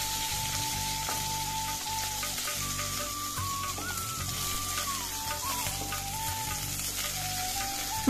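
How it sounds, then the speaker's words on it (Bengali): Pieces of rui fish and potatoes fry in hot oil in a pan, giving a dense, steady sizzle and crackle close up, with faint stirring noises and no voices. "মাছগুলোর এক পাশ ভাজা হয়ে গেলে অপর পাশও উল্টে দিয়ে একইভাবে ভেজে নেব"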